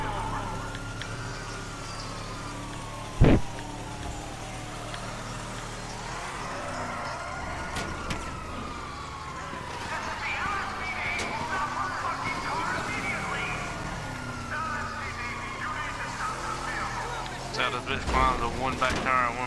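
Pickup truck in GTA V, a Vapid-made Ford-style model missing two tires, driving on bare rims and throwing sparks: a steady engine drone with grinding scrape and swooping whines, a sharp bang near the start, and voices over it.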